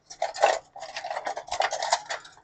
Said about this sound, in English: Let's get this whisked up a little bit.